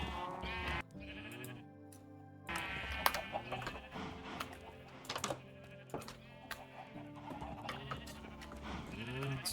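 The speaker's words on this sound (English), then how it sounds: "this is where I keep all my cows and my sheep" Sheep bleating in the Minecraft video game, several wavering bleats overlapping across the stretch amid clicky keyboard-like tapping, at moderate volume with no talking.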